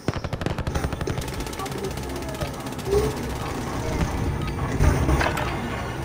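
Rapid gunfire bursts during target practice in the Warzone video game, a dense mechanical rattle of shots running throughout under faint voices.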